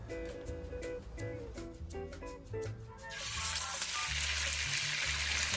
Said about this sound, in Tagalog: pipirituhin natin ang ating minarinade na fish tocino